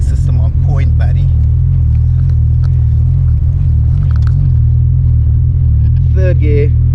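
Turbocharged and supercharged Mk2 Golf engine cruising in third gear, a loud steady low rumble that fills the cabin throughout, with a person talking over it.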